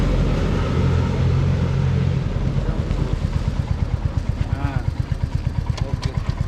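A new Royal Enfield Hunter 350 motorcycle engine runs with a steady, smooth low rumble and a rhythmic pulsing beat. It sits close and fairly loud throughout.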